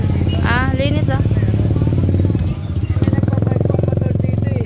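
A motorcycle engine chugs close by with a steady, rapid putter, then idles and revs again, in a busy Navotas wet market with people talking and calling out nearby.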